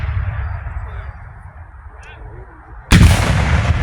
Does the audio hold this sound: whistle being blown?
no